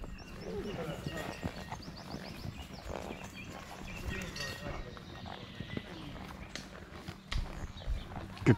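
Horses walk along a forest trail with soft, irregular hoof thuds close by, while someone talks over them throughout.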